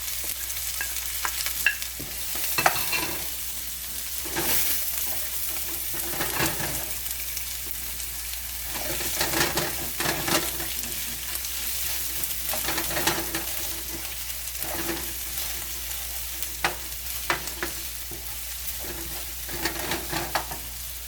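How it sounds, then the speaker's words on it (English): Carrot and onion sauté in a hot pan, a steady close sizzle broken by repeated scraping stirs of a utensil against the pan. "to saute my carrot and my onions"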